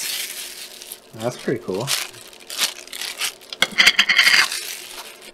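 Thick plastic packaging from a subscription box crinkles and scrapes as it is handled, in bursts of rustling close by, while someone speaks briefly over it.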